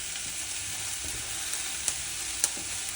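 Vegetables fry in a small pot while being stirred, giving a steady close sizzle with a couple of faint scraping clicks from the spoon.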